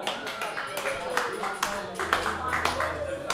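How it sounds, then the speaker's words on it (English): Audience at a live music night in a small pub venue claps and cheers for a singer taking the stage, sharp scattered claps rising over crowd murmur and voices throughout. "Give him a big round of applause"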